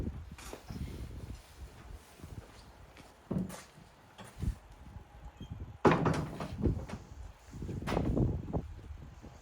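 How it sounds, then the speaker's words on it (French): A door to a horse tack room is opened, with scattered knocks, a latch-like clack and a firmer bump, soft and fairly close amid light shuffling. "Donc on va ouvrir la porte"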